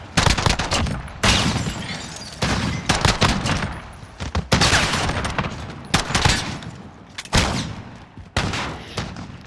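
Loud, repeated bursts of gunfire, including a RAAL light machine gun, rip through Call of Duty Modern Warfare in rapid strings separated by short pauses.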